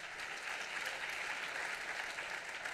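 An audience applauds at a university award ceremony for student trophies, with dense, steady clapping from a crowd that holds evenly throughout the clip.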